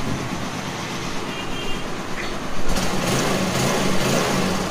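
A freshly rebuilt Hero Karizma R motorcycle engine starts up partway through and settles into a steady, close running noise over a background hiss.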